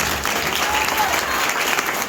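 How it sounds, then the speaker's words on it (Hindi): A congregation claps at a Friday healing church meeting. The applause is dense, loud and continuous and lasts the whole short stretch, with crowd noise blending into it. "हाथों को उठाओ, ताली बजाओ खुदा के लिए"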